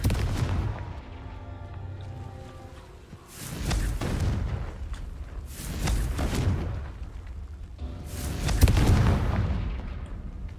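Confringo spell blasts in the Hogwarts Legacy video game, three heavy booming explosions spaced a few seconds apart, each with a rumbling decay, loud and close with no talking.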